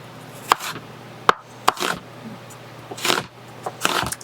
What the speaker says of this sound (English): if I start crying, it's because I'm cutting 4 onions